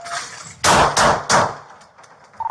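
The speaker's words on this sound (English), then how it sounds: "Shot fired. Shots fired." Three loud gunshots crack in rapid succession at a police domestic-violence call, each sharp blast ringing briefly before the next, followed by quieter background noise.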